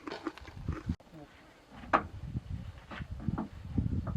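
Small midges or bees buzz in the shade during a hot gravel cycling ride in Namibia, with faint, brief whines recurring against a rustling, uneven background and low murmuring.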